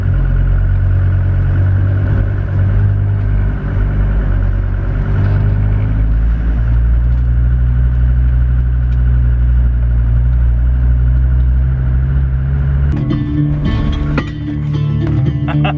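A Mercedes car, an SLK or G-Wagon, drives steadily with a continuous low engine and road drone throughout, then a burst of clattering, rattling noise over the engine toward the end.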